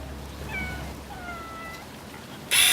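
A pet cat meows several times in short, rising and falling calls at moderate volume indoors, followed by a sudden loud burst of noise at the end.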